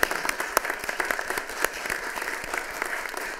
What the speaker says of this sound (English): let's give a big round of applause for all of our veterans